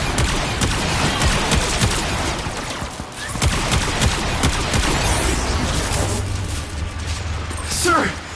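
Gunfire rattles through a video game battle as scattered shots and bursty volleys over a busy bed of noise, fairly loud throughout, with a voice talking over it and a brief mechanical whine near the end.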